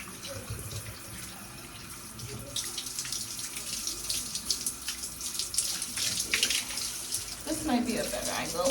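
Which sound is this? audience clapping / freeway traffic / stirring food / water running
water running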